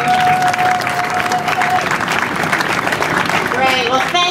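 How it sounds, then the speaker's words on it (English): A crowd at a Disaster Transport last-rider fundraiser claps for Pam and the Snyder family: loud, continuous applause filling the space for several seconds, with some cheering mixed in. "Can we get a round of applause for Pam and for the Snyder family?"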